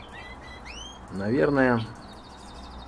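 Lesser green leafbirds (Phyllornis cyanopogon) give a few short, thin rising chirps against steady background hiss, followed by a brief spoken word from a man.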